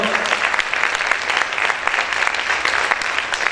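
Church congregation applauding strongly, a loud, sustained, dense burst of many hands clapping at once, with little else heard beneath it.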